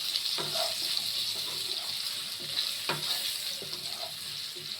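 Taro pieces lightly frying in a pan give a steady soft sizzle close by, broken by a few sharp clicks and stirring scrapes, with no talking.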